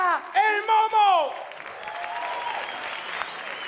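Audience at the 26th Aragonese Music Awards gala in Teruel bursts into applause and cheering for a rapper, after a drawn-out shouted voice introduction; the clapping stays dense and steady to the end.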